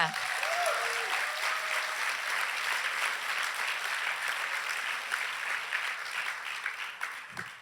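Congregation applauding during a church service, a dense, steady wash of clapping that fills the whole stretch, with a few voices calling out briefly near the start.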